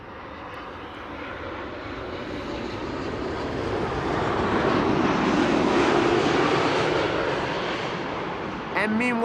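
Boeing 787-10 Dreamliner airliner arriving at Amsterdam Schiphol, a broad jet-engine roar that swells gradually to a peak and then eases off slightly, steady and moderately distant.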